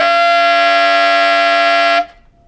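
A tenor saxophone holds a loud, buzzy altissimo G multiphonic, several tones sounding at once in a steady two-second sustain before it cuts off.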